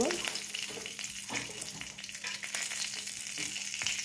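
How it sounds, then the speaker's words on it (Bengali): Four slit green chillies frying in leftover fish-frying oil with panch phoron, cloves and cinnamon, a loud, steady sizzle broken by stirring scrapes and no talking. "এবার একটু হালকা ভাজা ভাজা করে নেব।"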